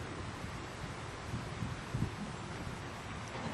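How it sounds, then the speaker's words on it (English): Wind on an outdoor golf practice ground in Orlando as a front moves in, a low, steady rumbling buffet with a few slightly stronger gusts, fairly quiet and with no talking. "Hope the wind doesn't interfere too much with this."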